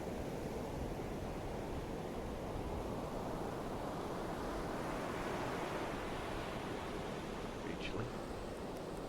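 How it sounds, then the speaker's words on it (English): Steady, dense rushing water noise as a U-boat submerges in the UBOAT submarine game, a continuous broadband wash with no breaks, close and fairly loud throughout. "submerge the boat"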